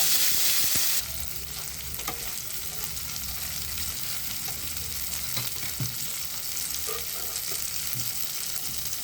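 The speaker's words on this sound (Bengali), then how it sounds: "আমি এবার যে মশলাটা রেডি করেছি একটু ভেজে নেব" Spice paste frying in hot oil for paneer rezala, a steady close sizzle with occasional stirring scrapes, louder in the first second then settling into an even crackle with no talking.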